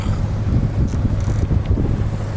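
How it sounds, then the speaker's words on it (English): Sailboat motoring under engine power in near-calm wind, a steady low engine drone with wind buffeting the microphone and faint water noise, continuous throughout. "The cunning amongst you may notice that I'm motoring."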